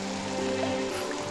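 Steady rain falls in a continuous, even wash of hiss, fairly loud and close, with no break and no voices.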